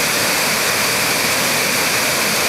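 Mud Creek Falls, a muddy waterfall on a rafting creek, roars in a loud, steady, unbroken rush of falling water close by, alone with no voices.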